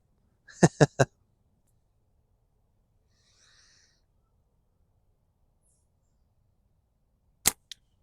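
SimpleShot Slant Spartan limited-edition slingshot shot at a target: a quick cluster of three sharp snaps near the start, then a long quiet stretch and one more crisp crack with a small tick near the end, no speech.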